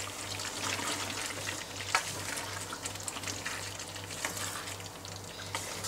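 Onions and vegetables being stirred in a pan for Thai green curry, a steady wet sizzle with soft scraping and occasional clicks of the utensil under a constant low hum.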